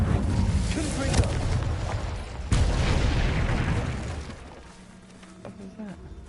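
Confringo spell blasts in the video game Hogwarts Legacy, heard as heavy booming explosions with a sharp crack in the middle, then rumbling away and fading. A voice speaks faintly underneath.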